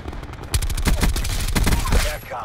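Rapid gunfire from a Call of Duty Black Ops 4 match, including shotgun blasts, cracks out in a dense burst of overlapping shots after a brief quiet lead-in, loud and close, then trails off.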